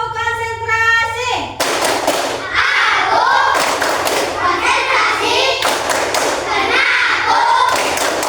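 Children perform the 'tepuk konsentrasi' clapping routine in a classroom, sharp rhythmic claps in quick bursts with loud group chanting over them, after an opening stretch of a voice.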